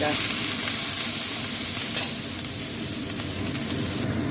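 Capsicum, onion, garlic and chopped green chili stir-fried in hot oil for cauliflower manchurian, a steady loud sizzle with scraping stirring strokes running throughout.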